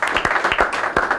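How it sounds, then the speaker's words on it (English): An audience applauds the ladies honored on a radio show, including a dance contest winner, with a dense, close wash of clapping that runs steadily through the whole moment. "A round of applause to the ladies"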